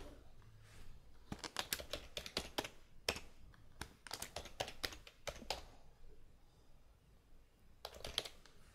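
Someone types details into a form on a computer keyboard, producing quick clusters of close, crisp key clicks broken by brief pauses, with a soft background hum and no speech.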